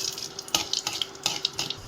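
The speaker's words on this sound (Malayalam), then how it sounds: "ഈ എണ്ണയിലേക്ക് കുറച്ച് ഉലുവ ഇട്ട് കൊടുക്കാം." Fenugreek seeds dropped into hot oil in a pan while roasting coconut for a sambar, giving a soft steady sizzle with light scraping and stirring clicks over a low hum.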